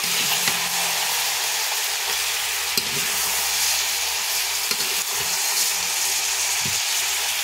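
Chicken pieces frying in fat rendered from the meat, giving a steady close sizzle with occasional stirring clicks from the pan, with no talk.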